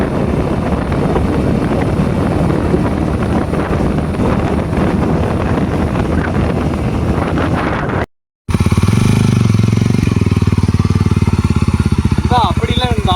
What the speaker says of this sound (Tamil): இப்போ செகண்ட் கியரில் போகிறேன். சவுண்டு எப்படி இருக்குன்னு பாருங்கள்.